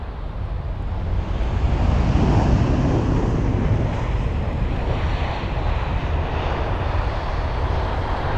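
An Airbus A320-200 arriving at London Heathrow from Cork as flight EI722 gives a loud, steady jet roar that swells slightly mid-way and holds, with some wind noise on the microphone.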